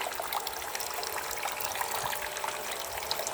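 Water flowing steadily through a small whirlpool circulation system, a continuous bright trickling wash with light splashy detail, close and even throughout.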